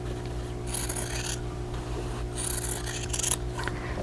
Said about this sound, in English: And then cut a part right between those two sewn lines